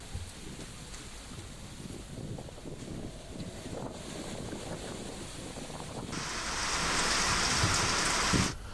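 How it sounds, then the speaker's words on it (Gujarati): Rain falls steadily in Dwarka, a dense, continuous patter with wind gusts hitting the microphone, growing heavier and louder toward the end before easing slightly. "આજે દ્વારકામાં આ વરસાદી વાતાવરણ"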